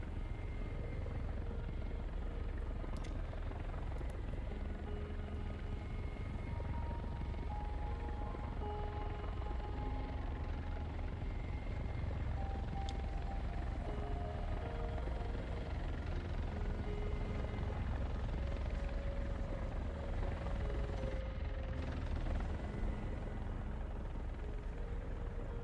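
Helicopter in War Thunder ground assault, a steady low rotor drone holding at constant loudness throughout, with faint tonal game sounds scattered above it and no talk.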